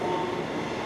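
A New York City subway train passes, making a steady, loud rumbling roar that holds for the whole moment with no voices over it.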